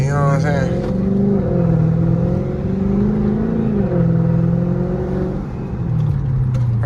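A Chrysler 300 with a 392 Scat Pack V8 and burble tune pulls through city streets, its engine note rising and falling through gears with a throaty drone close by, while someone talks over it.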